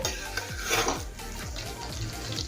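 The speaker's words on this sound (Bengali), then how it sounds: "গ্রেভির জন্য এখানে কর্নফ্লাওয়ার গোলা জলটা দিয়েছি। কিছুক্ষণ সময় নিয়ে রান্না করে নেব।" Chilli paneer gravy thickened with cornflour water bubbles and simmers in a pan, a soft continuous sizzle with light stirring scrapes, close and steady; no one talks.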